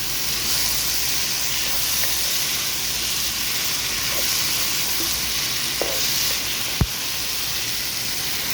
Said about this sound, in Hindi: इसकी जो भिंडियाँ इसके अंदर हम डाल देंगे। और जो सब्ज़ मिर्च थी मैंने दरमियान से कट लगा के वो उसके अंदर डाल दिया है। ठीक है, अब हम इनको मिक्स करेंगे।